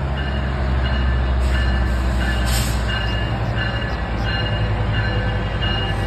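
Metrolink commuter train 664 bound for Oceanside, led by locomotive 915, rumbles past close by with a loud steady roar, wheel noise and faint high squeals, with no talking.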